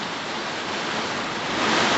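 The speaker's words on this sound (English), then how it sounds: "The winds are over 70 miles an hour." Storm winds over 70 miles an hour with sheeting rain make a steady, dense roar that swells louder toward the end, with no voices.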